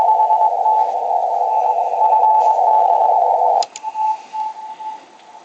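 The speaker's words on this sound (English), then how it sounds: "that's a pretty weak Morse signal there" A weak Morse code signal comes through a radio receiver running without DSP, heard as a steady whistling tone over hiss that cuts off partway, followed by brief uneven tone bursts and fainter keying.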